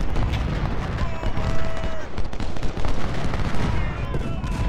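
Cannon and rifle volleys crackle and boom in the video game Ultimate General: Civil War during the battle of Stones River, dense, continuous and loud, with overlapping shots.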